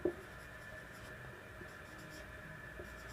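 A pen writes by hand on paper while accounts are filled in, faint soft scratching strokes in a quiet room after a small tap at the start.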